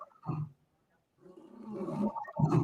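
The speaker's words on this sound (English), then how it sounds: "Growling of a lion" A low, rough animal growl rumbles briefly, pauses in silence, then returns longer and louder, ending in a harsher roar-like burst.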